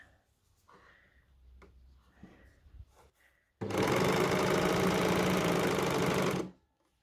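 Overlocker serger stitching T-shirt fabric across a seam, a loud continuous mechanical whir lasting about three seconds, preceded by soft handling and fabric-shifting noises.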